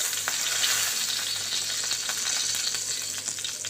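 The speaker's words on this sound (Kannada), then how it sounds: "ಹಾಕ್ಕೊಂಡು ಫ್ರೈ ಮಾಡ್ಕೊತಾ ಇದ್ದೀನಿ ಇದೇ ಎಣ್ಣೆ ಒಳಗೆ" Cumin powder, coriander powder, turmeric, garam masala and chili powder frying in oil for paneer tikka masala, a continuous close bright sizzle with faint crackles throughout and no talking.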